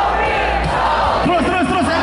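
Indonesian audience at a comedy show loudly chanting a guest's name in unison, a roaring crowd shout with rhythmic rising calls near the end.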